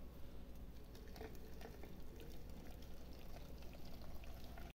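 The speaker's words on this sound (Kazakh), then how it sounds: "Суымызды құйып," Boiling water being poured from a kettle over cucumbers packed in a jar for pickling, a steady, fairly faint rushing splash that runs continuously with no talk.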